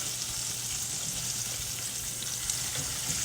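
Pork chops fry in a pan with a steady, close sizzle and crackle, with faint scraping as they are flipped over and no talking.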